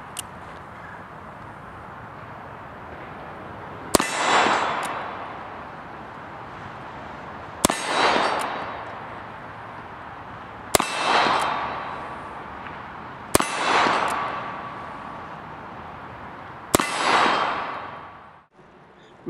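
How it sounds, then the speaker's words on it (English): Five widely spaced gunshots from a Remington cartridge conversion revolver firing smokeless loads, each a sharp crack followed by a ringing clang off a steel plate target, evenly paced several seconds apart in an outdoor setting. "We've been shooting today on the Evil Roy target system from Action Targets. This is a steel plate target."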